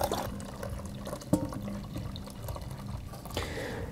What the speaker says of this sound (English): we're going to use some boiling water to simulate our warm air